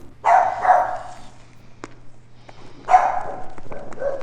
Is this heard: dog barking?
yes